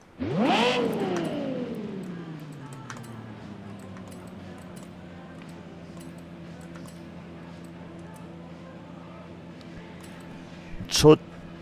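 In Forza Horizon 5, a Toyota Land Cruiser AT37 fitted with a Lexus engine gives one sharp rev that rises then winds down into a low idle, closing with a brief second blip.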